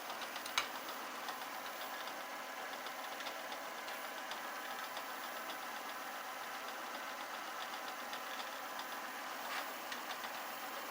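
A Clarke CL500 metal lathe taking about a 2 mm depth of cut, a steady faint hum and whirr with a fine hiss of cutting running evenly throughout, one brief click near the start.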